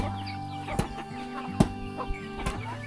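Chickens in a rural Lao mountain-valley village cluck faintly in short scattered bursts over a low steady hum, with a few sharp knocks nearby.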